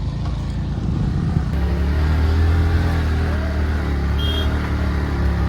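A car revs hard on a road while its wheels slip and kick up smoke, a loud, steady engine roar that rises and holds close by, with no talk over it.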